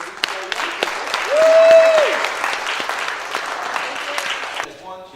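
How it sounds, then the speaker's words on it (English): A crowd at a gospel magic convention in Nashville claps steadily and warmly for four young performers, dense applause holding at a close, even level for several seconds, with a brief rising whistle or cheer near the middle. "So I think maybe we should clap and cheer for these 4 young people."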